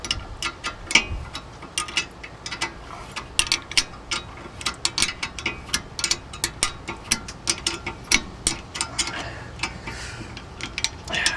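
A 15mm wrench ratchets steadily while cranking down the rear brake caliper of a 2001 Jetta TDI, a fast, even run of close, crisp clicks with no talking.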